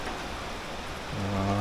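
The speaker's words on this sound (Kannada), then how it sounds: "ಮಳೆ ಬಿಡುವಿಲ್ದಂಗೆ ಹೋಯ್ತಾ ಇದೆ" Heavy monsoon rain pours steadily near Agumbe and Sringeri, a dense, continuous hiss of falling water that swells slightly toward the end, with a low steady hum underneath.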